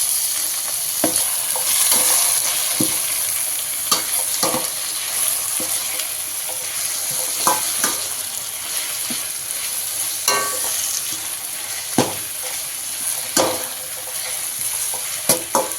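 Masala fries in plenty of oil in a wide-bottomed pan for fish gravy, a loud continuous sizzle close by, punctuated by repeated spoon scrapes and knocks against the pan.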